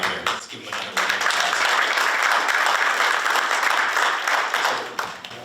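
An audience at a university town hall breaks into a dense round of applause that swells after a brief pause, sustained and fairly loud, then tapers off near the end.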